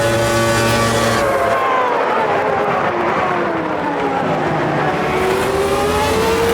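Race car engines in the sim racing game Automobilista 2, loud and continuous, with rising and falling engine whine, several cars revving and passing close, and a faint voice underneath.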